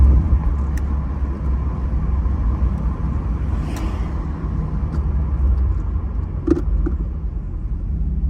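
A 1986 Chevrolet Camaro IROC-Z with a 5.0 V8 rumbles steadily through its exhaust, a continuous low drone heard from inside the car with a few faint clicks and no one speaking.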